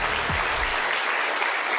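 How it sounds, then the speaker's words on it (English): Applause breaks out in Mission Control in Houston as the Artemis II crew exits after landing, a dense, steady clapping from a room full of people that carries on without pause and without talk. "Applause from Mission Control in Houston as history is made."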